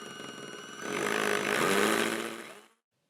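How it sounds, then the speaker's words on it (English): A masonry drill bit boring a mounting hole into a soft brick wall for a camera bracket: a close, loud, rough grinding whine that ramps up after a quiet start, holds steady, then cuts off abruptly. "And now to, of course, drill the hole so I can mount this."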